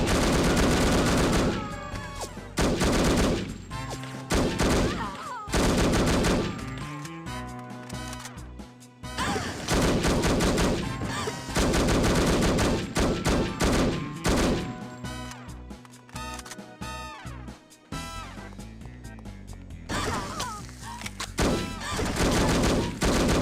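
Dense, rapid gunfire from the PC shooter No One Lives Forever, loud and sustained in repeated volleys with brief pauses between them, all set against a busy game soundtrack.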